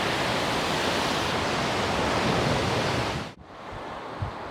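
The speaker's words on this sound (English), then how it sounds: "And now there it's a raging torrent." A swollen river rushes as a raging torrent, with a steady, loud, broadband roar that runs unbroken and then briefly dips near the end.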